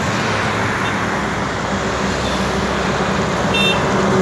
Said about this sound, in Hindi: ये गाड़ी सब मुंबई से नासिक तरफ जा रहा है।